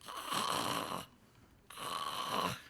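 Snoring during sleep, two long rasping snores with a quiet breathing pause between them, close and fairly faint with no other sound around.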